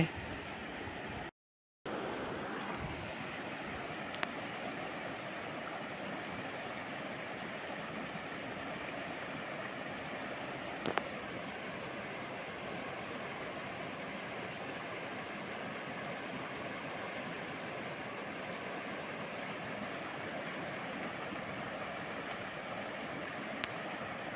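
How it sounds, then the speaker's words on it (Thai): A strongly flowing stream rushes steadily at a fishing spot, a constant broadband water roar at moderate level with a brief dropout near the start and occasional small clicks. "น้ำไหลแรงนะครับ"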